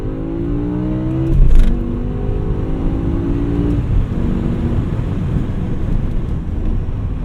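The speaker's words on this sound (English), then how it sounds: "I'm just gonna crack these, try to get some exhaust sound." A 2008 BMW E60 M5 engine revs and accelerates with a rising, throaty exhaust note, loud and close, then settles into a steady rumbling drone.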